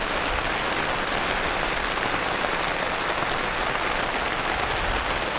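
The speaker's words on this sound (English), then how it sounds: "It depends on the intensity of the rain." Steady, dense rain hisses without a break at an outdoor paintball tournament, loud and even throughout, with no voices.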